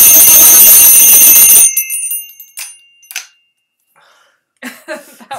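A bright timber-style bicycle trail bell rings loudly and continuously, then stops abruptly, followed by a few scattered knocks and rustles.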